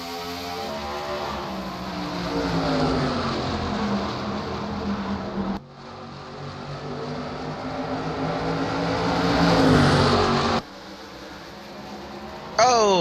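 A pack of NASCAR stock cars at New Hampshire roars on a green flag restart, engines droning loud and continuous with rising pitch as they accelerate, cut by abrupt shifts in the broadcast feed.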